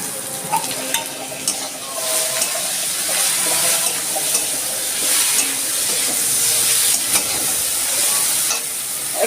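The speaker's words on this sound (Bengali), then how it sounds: "এই চিংড়ি মাছগুলো আমি নুন হলুদ মেখে রেখেছি, এখন এগুলো দিয়ে দিচ্ছি।" Small shrimp coated in salt and turmeric fry in hot oil with a loud, dense, continuous sizzle and spatter, close up, with occasional light utensil taps and no voices.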